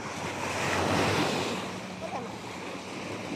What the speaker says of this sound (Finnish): Täällä laineet lyö rantaa